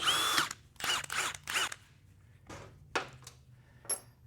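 Impact wrench rattling bolts loose during teardown of an A-518 transmission, with three close, loud bursts in quick succession followed by fainter, shorter bursts as more fasteners come off.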